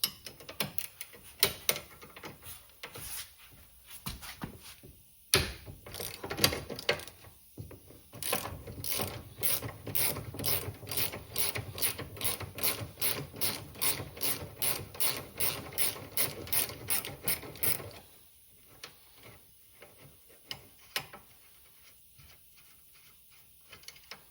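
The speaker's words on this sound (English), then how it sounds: "a 15 millimeter socket and ratchet." A ratchet with a 15 mm socket turns a nut on the rear wheel of a 2024 CFMOTO ZFORCE 950 trail vehicle, making fast, close clicking in bursts that settles into a long steady run, then quiet handling noises.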